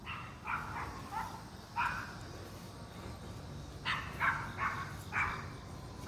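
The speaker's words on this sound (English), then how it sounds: "that's a barking little dog" A small dog barks in several short bursts, a pair of yaps, another, then a quicker cluster, moderately close against a steady background hum with no talking.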